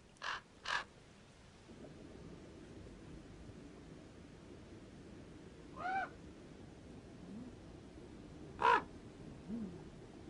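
Crows at a roost in a Spanish nature reserve give several harsh, separate caws, two quick ones at first and then isolated calls later, rising over a faint, quiet background.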